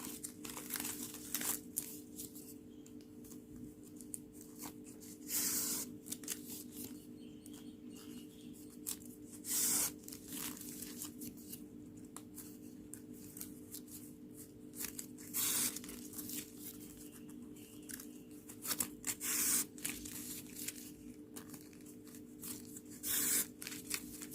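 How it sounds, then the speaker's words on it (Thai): Paper petals for a lotus-flower coin decoration crinkle and rustle as they are folded and tucked upward, quiet and close, with repeated short bursts of crumpling over a low steady hum. "เราก็พับสอดขึ้นด้านบนนะคะ"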